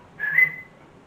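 A person imitates a whistle they heard: a single short, fairly faint whistled note that rises slightly and then fades.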